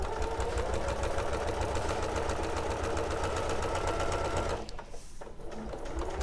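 Sewing machine top stitching a William Morris-print green quilt top: a fast, steady motor whir with rapid needle chatter running continuously for several seconds, then cutting out abruptly near the end, leaving quieter room tone.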